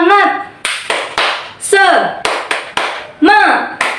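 A classroom group doing a rhythmic spirited clapping chant led by a teacher, sharp claps in a set pattern alternating with voices chanting together.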